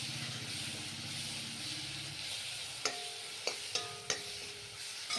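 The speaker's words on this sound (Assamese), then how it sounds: "মই এইখিনি অকণমান সময় মই ভাজি থাকিম" Red chili frying in hot oil in a pan for ghugni: a soft steady sizzle, with a spoon stirring and scraping at first, then several sharp clinks of the utensil against the pan.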